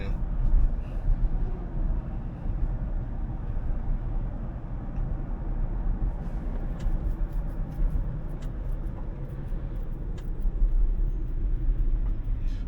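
A Tesla on Full Self-Driving Beta 12.3 rolls along with steady interior road noise and tire rumble, a broad low hum that swells slightly as it picks up speed, with no talking.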